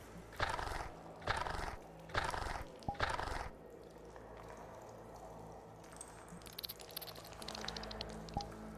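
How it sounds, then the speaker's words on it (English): Heavy creature footsteps as a sound effect: four loud, thudding steps with horse-like clopping and snorting, then a rougher rustling and crunching that continues under faint ambience. "You hear its footsteps rumbling closer."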